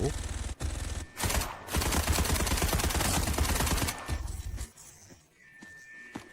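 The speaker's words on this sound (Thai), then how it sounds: "เพื่อนร่วมทีมคนหนึ่งกลายเป็น แขกกำลังยิงเขา" Dense rapid automatic gunfire in the Delta Force shooter game, loud bursts running almost continuously for several seconds before cutting off, followed by quieter game ambience and faint tones.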